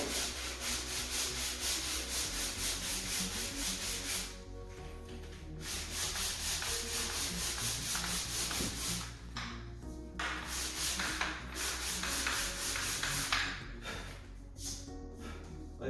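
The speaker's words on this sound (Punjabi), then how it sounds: "ਇਹਨੂੰ ਐਂਗਲ ਤੇ ਥੋੜਾ ਸੈਂਡ ਕਰ ਲਈਏ ਇਦਾਂ" The angled edge of a vinyl flooring plank is sanded by hand in close, rhythmic rasping strokes, with brief pauses between bursts of rubbing.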